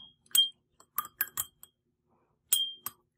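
A pen is rinsed in a glass of water, knocking against the rim in a series of sharp, close glassy clinks, with a cluster of taps followed by a short pause and two more clinks.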